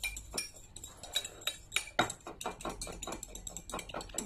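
A utensil clinks quickly and rhythmically against a bowl while egg yolk and water are mixed for brioche, a steady series of bright close taps with no talk.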